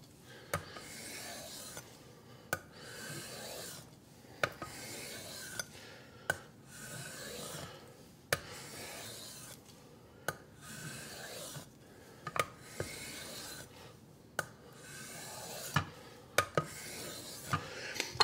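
A knife blade scrapes back and forth across a diamond plate sharpening stone in steady, rasping strokes, each pass ending in a sharp metallic tick, close and unaccompanied by talk.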